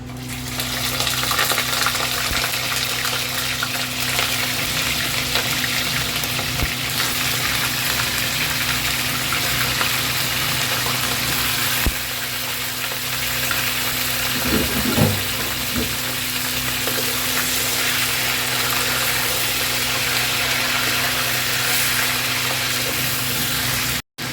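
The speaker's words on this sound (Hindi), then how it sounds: "तो हम इसको तेल के अंदर डाल देते हैं। हमें फ्राई करना है इसको तेल में पहले।" Washed chicken pieces frying in hot oil for a creamy malai handi curry, a continuous steady sizzle heard close for the whole stretch, with a low constant hum beneath and an occasional faint clink, and no voice.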